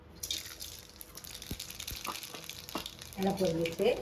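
Mustard seeds and lentils crackle and sizzle as they hit hot oil in a home kitchen, with scattered pops and light clinks, building to a louder spattering burst near the end.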